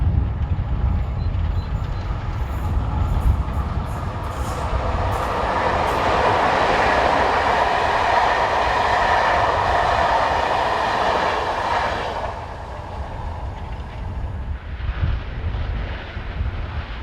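A Polish locomotive in Netherlands football team colours hauls the EC105 Warszawa to Vienna express past at close range, with a sustained loud roar of engine and rolling wagons that fades slightly near the end.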